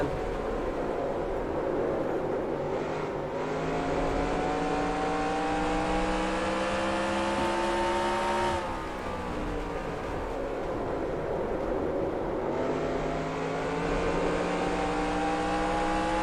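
Race cars roar past in a NASCAR Racing 2003 game at Nashville, a constant loud engine drone with rising pitch sweeps as cars pull by, sustained with no pauses or talk.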